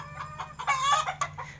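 A Texas breed hen clucks noisily at a chicken nest in the Philippines, a run of close, loud, uneven clucks and squawks with a low steady hum underneath.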